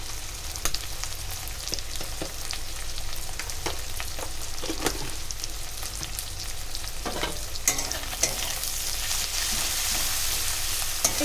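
Chepa shutki, dried fermented fish, frying with kochur loti taro stems in a pan, a steady close sizzle with scattered clicks and scrapes of a spatula stirring throughout, no voices.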